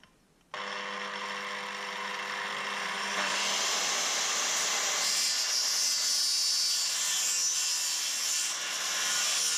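A handheld circular skill saw starts abruptly and cuts freehand through wood for a joint on an off-grid compost toilet build, a loud continuous whine that rises and roughens as the blade bites the timber.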